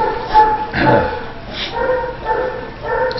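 A small dog once used as a bait dog in fighting barks and whimpers in short yips and whines, fairly close and loud, with faint background noise.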